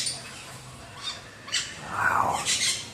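A red-tailed black cockatoo at a zoo calls in several rough, grating squawks of moderate loudness, spaced irregularly over quiet background.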